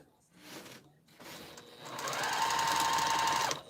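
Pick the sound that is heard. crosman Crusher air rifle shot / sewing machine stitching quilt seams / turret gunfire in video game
sewing machine stitching quilt seams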